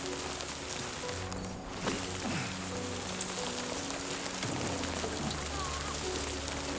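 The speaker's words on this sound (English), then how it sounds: "Let's go, because it's raining heavily." Heavy rain in the video game Death Stranding 2, a dense, steady hiss of downpour filling the whole scene with a low rumbling bed underneath, continuous and loud throughout.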